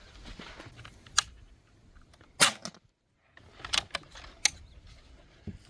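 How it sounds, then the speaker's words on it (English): A Benjamin Bulldog .257 air rifle fires a few shots at a target, each a sharp, fairly quiet crack spaced a second or two apart, mixed with light mechanical clicks and handling noise, no talking. "I'm gonna make a few shots at a target"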